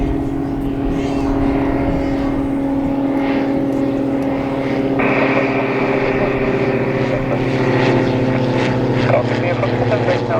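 A propeller airplane taking off at Gloucester Airport, its steady droning engine and airscrew tone loud and continuous throughout, swelling slightly midway, with faint voices beneath.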